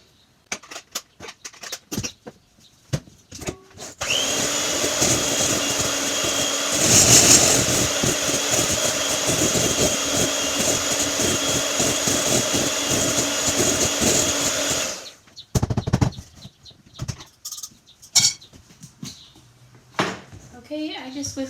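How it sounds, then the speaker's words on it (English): An electric hand mixer whirs loudly and steadily for about ten seconds as it whisks coconut macaroon batter, after scattered bowl knocks and handling sounds, then switches off and more clatter follows. "I'm going to do it with my mixer."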